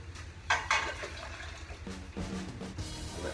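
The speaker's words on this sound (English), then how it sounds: "And we're gonna dump this water in here." Water is dumped from a pot into a sink while making cheese sauce, giving a short splashing pour and gurgle that rises in two bursts, close and fairly quiet.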